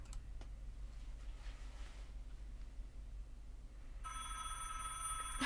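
A telephone is dialed in a radio drama, with a faint click early on and a steady hum underneath, then a bright ringing tone rising clearly near the end.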